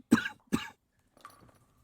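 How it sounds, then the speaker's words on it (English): In the Call of Cthulhu video game, a character coughs from toxic oil smoke: two sharp, close coughs in quick succession, then a fainter rasping throat sound after a short pause. "coughing sounds extremely real"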